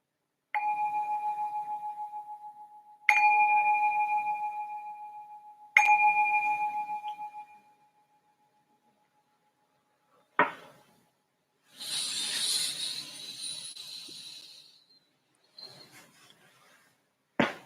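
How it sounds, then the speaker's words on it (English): A meditation bell struck three times at the start of a session, each strike ringing out as a clear, sustained tone that slowly fades, followed by quieter rustling and breathy shuffling. "I'm going to ring this bell to signal the start of our meditation"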